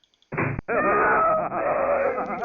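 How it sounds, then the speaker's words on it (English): A brother screams in the game The Uninvited on the Apple IIGS, a loud, sustained, harsh digitized wail that starts after a short blip, cuts off briefly, then drags on and wavers. "Your brother's screams are deafeningly loud in here."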